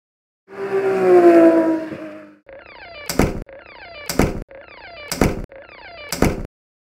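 A car engine roars and squeals in a long rising burst, then four sharp repeated thunks follow at an even pace, loud and close with no talk.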